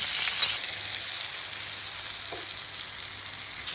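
Peppers fry in rendered tail fat for a Sivas-style fried meatball dish, a close, steady, bright sizzle and crackle with a faint stir or tap near the middle and no voices.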